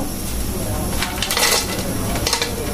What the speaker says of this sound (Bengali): প্রথম তেজপাতাগুলো দিলাম, দালচিনি দিব, তারপরে এই বড় বড় এলাচগুলো দিব।